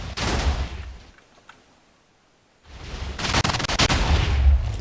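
A TNT cannon in Minecraft fires off in a loud, crackling barrage of blasts, falls briefly near-silent, then erupts again in a longer, denser volley of booms.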